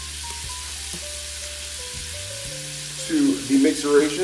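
Butter hits a hot pot of fried rice and meat and starts sizzling and frying. The crackle swells loudly near the end, over a steady low background hum. A voice speaks briefly.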